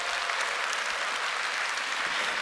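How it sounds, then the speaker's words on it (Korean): Audience at a Korean cosmetics business seminar applauding, dense, even clapping from a crowd that holds steady throughout, with no talk over it. "다시 한번 박수 주실까요?"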